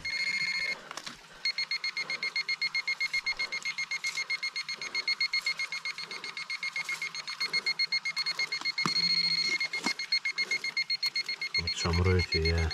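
A metal detector emits a rapid, steady electronic beeping that pulses continuously during a treasure hunt, with occasional voices and handling noises mixed in.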